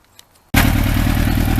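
A Yamaha Thunderace motorcycle engine, with its carburetors exposed, catches abruptly after a moment of near silence and settles into a loud, close, rhythmic idle.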